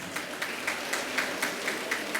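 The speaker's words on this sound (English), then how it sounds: "Once again, a big round of applause." Audience applause at a platinum jubilee celebration for a school, a faint, distant, steady patter of clapping with a few slightly louder bursts.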